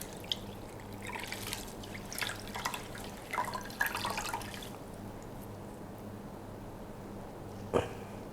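Running tap water splashing over an item being rinsed in a kitchen sink, with bursts of spatter and trickle, then quieter dripping and one last splash near the end.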